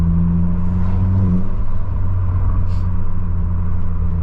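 A straight-piped Volkswagen GTI idles with a loud, steady, deep exhaust drone, close up, with a faint clatter near the end.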